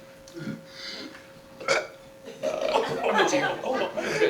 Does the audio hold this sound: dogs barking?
no